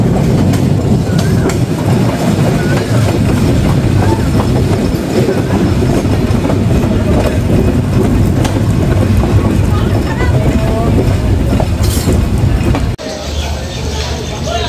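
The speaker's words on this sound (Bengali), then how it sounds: "ট্রেন প্রবেশ করছে তার প্রথম যাত্রাবিরতি স্টেশন আজিমনগরে" The Kapotaksha Express train rolls into Azimnagar station with a loud continuous rumble and clatter of wheels on track, steady throughout before the level abruptly drops near the end as it slows.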